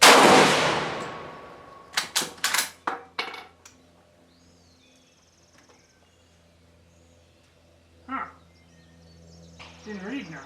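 A single loud rifle shot from a Spanish M1916 rifle converted to 7.62 NATO cracks at the start and rings out as it decays. A quick series of sharp metallic clicks follows, then a few brief voices.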